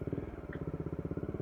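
A Bajaj Dominar 400 motorcycle weaves through a toll lane, its engine giving a steady rapid low thumping pulse up close for a brief moment.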